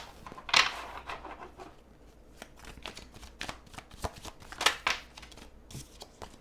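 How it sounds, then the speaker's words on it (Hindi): Tarot cards shuffled by hand in quick riffling bursts, with two louder flurries near the start and toward the end and softer card flicks between, close and alone without talk. "टेक एक क्विक शफल, फिर उसके बाद आपकी रीडिंग शुरू करते हैं।"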